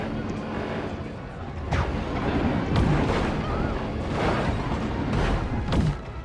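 Rocket blasts in the video game Destroy All Humans! come as a series of heavy, rumbling booms layered over a constant loud roar of game noise, with several impacts clustered over a few seconds.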